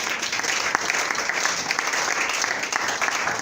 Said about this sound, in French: Acclame Dieu, s'il te plaît.